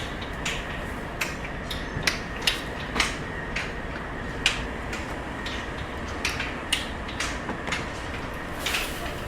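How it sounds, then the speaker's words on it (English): Small conveyor belts in a Darjeeling tea factory dryer run with a steady mechanical rumble, punctuated by repeated light clicks and ticks at irregular intervals; no talk. "there's a series of small conveyor belts that go back and forth"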